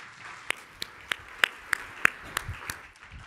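Applause at the closing session of a security and privacy conference comes through as a handful of sharp, evenly spaced claps, fairly close, rather than a full crowd.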